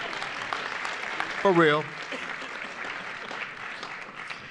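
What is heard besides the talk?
audience clapping at commencement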